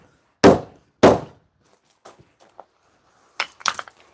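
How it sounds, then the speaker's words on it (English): A hammer taps on a piece of timber during a glue-up of a folding bench, two sharp loud knocks close together, then a few faint small clicks and a final cluster of quicker knocks. "Just give those a wee tap out."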